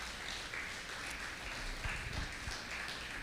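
Congregation applause for the Lord at a church service: a faint, steady wash of clapping from a crowd that keeps an even level for about three seconds with no voices over it.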